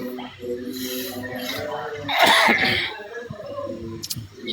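A single harsh cough bursts out close by midway through, among low murmuring voices and background room noise.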